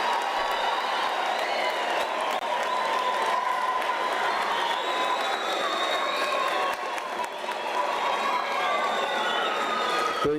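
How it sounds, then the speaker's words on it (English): Crowd at a university graduation ceremony applauding and cheering, with continuous clapping, shouts and whistles from a large audience sustained throughout at an even level. "give them a round of applause"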